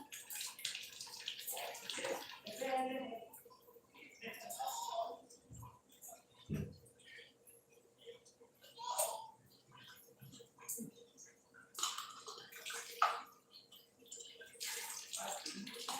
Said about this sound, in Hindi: और एक पानी धो लेती हूँ मैं फली को